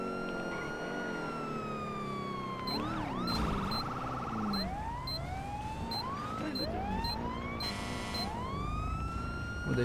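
Several police car sirens wail in a video game, rising and falling sweeps overlapping as multiple pursuing vehicles follow close behind, layered over steady engine and road noise.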